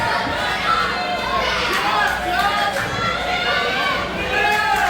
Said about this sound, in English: They're all making noise for Chubby Depp trying to will him to his feet